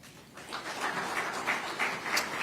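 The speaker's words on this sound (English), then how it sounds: "A big round of applause for, of course, Engineer Paul Chagwa-Gawiwa." Audience applause for a speaker at the ZEDCON 2024 conference in Zimbabwe, clapping swelling from quiet to a steady, fairly distant patter that keeps building through to the end.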